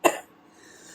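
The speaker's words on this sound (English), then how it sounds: "Horrible coughing and whatnot." A single sharp cough bursts out close up and fades quickly into quiet room tone.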